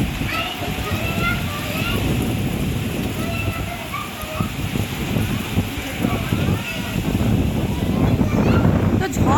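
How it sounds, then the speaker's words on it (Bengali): Storm wind in heavy rain gusting in a continuous loud roar that buffets the microphone, with a slight swell near the end. "এত ঝড় হচ্ছে, এই ঝড় বৃষ্টি"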